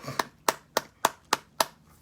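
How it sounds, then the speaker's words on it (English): A preacher claps his hands alone, six sharp, evenly spaced claps close by with brief silences between them and no voices. "I'm going to clap right there by myself."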